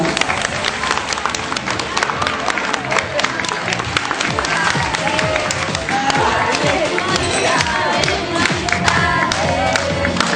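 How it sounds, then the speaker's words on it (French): A crowd at a wedding fair claps and cheers loudly and continuously, dense and close, with voices mixed into the steady roar. "Allez, applaudissez-le un petit peu"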